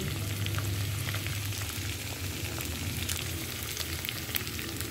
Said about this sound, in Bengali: এখানে কড়াইয়ে বানাচ্ছি ঘি